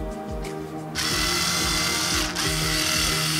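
An electric screwdriver removes screws from a Dell Inspiron 1501 laptop, a close, whirring motor buzz with short bursts and a ratcheting click, then a steady run of spinning.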